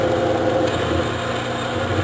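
A lathe tool bit cuts metal in a smooth, continuous pass, giving a steady whining machine hum with faint grinding texture, close and unbroken for the whole moment with no talking.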